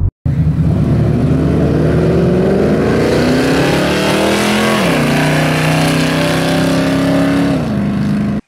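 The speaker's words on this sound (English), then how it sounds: "listen to the exhaust. You can hear how it really hesitates at first" Car exhaust revving through a run before a 3000-stall torque converter upgrade, loud and continuous, with engine pitch climbing steadily, dropping sharply near the middle, then holding and rising again, no talking over it.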